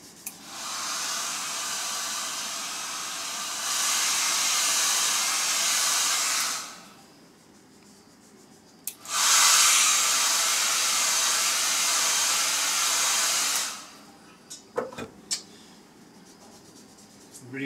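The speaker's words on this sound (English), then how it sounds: "just going to use a hairdryer, which I always keep close" A hair dryer drying paint blows in two long, steady whooshing bursts with a short pause between them, followed by a few light clicks and taps.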